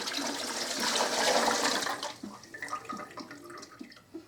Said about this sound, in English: I'm going to put my water in there.